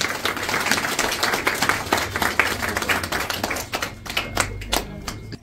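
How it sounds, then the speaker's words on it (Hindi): Audience applause at a spiritual gathering, a dense burst of many hands clapping loudly that thins into scattered claps near the end. "तो अपने लिए एक बार जोरदार तालियां"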